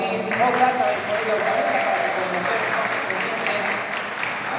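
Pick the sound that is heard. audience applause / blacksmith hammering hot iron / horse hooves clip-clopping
audience applause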